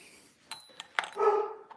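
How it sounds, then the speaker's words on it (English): A dog barks a few times nearby, short sharp yaps followed by a longer whining bark, with no talking. "Oh, there's the dog barking."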